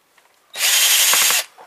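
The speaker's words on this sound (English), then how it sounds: "Let's use some power tools." A power tool used while scrapping a laptop computer for gold and other parts gives one loud, close, steady whir of just under a second that starts and stops sharply, with nothing else around it.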